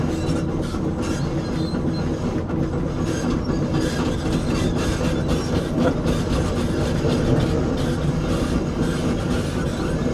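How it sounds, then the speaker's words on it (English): An excavator's steel tracks grind and squeal while it works on a pond dam, a loud continuous clanking rumble close by with metallic screeching layered throughout. "Makes my track squeal."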